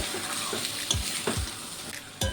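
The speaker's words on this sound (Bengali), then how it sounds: "সুন্দর করে একটু কষিয়ে আমি 1-2 মিনিট রান্না করে নেব।" Besan and paneer spring rolls fry in hot oil in a pan, a steady sizzle broken by several sharp scrapes and knocks of a spatula stirring them.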